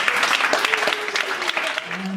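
An audience at a startup pitch final applauds with dense, steady clapping, and voices and cheers come through over it.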